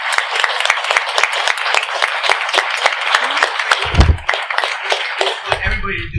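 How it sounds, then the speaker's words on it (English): An audience claps steadily after talks at an animal welfare lecture, a dense patter of hands that thins toward the end, with a voice briefly speaking over it. "let's give them a big applause"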